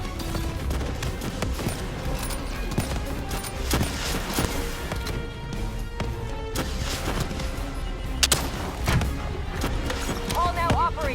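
Gunfire in the Call of Duty Black Ops 3 story campaign during a fight against a shielded boss, with repeated shots and impacts crackling throughout under in-game voices and combat noise.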